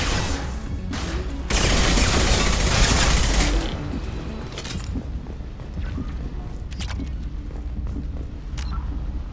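In Mass Effect 2, a grenade blast produces a loud, dense burst lasting about two seconds. Scattered sharp gunshots and mechanical clatter follow at lower level.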